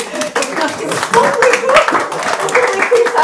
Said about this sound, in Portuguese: O público está muito em silêncio, mas é bom ouvir as palmas.